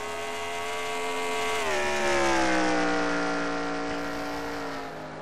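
Stock cars racing in a NASCAR video game, a loud, sustained engine whine that pitch-drops as the cars brake into a turn, then holds steady and fades slightly, with no talking.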